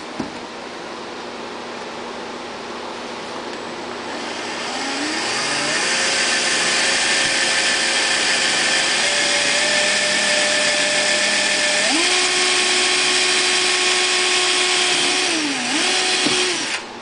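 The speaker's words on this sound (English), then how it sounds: "And I'll drill a pilot hole right where the black dot is" A power drill whines steadily, its motor pitch rising and shifting as it bores a pilot hole while fitting a fuel kit to an EU3000is generator, running continuously for the whole stretch with no talking.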